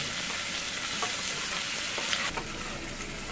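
Shrimp fry in a pan with a loud, continuous close sizzle while a utensil stirs through them, giving a few light scrapes and taps before the hiss drops slightly.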